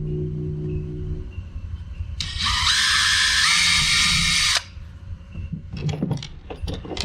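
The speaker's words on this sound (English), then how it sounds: "And then drill your other hole." A power drill bores a hole through a boat hull for a thru-hull line guide, a loud steady whine of about two seconds that stops abruptly, followed by quieter handling clatter.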